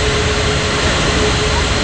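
Steady broadband jet engine roar from an aircraft in an air traffic control video game, a continuous loud rush with a faint tonal whine running through it, with no break for the whole stretch.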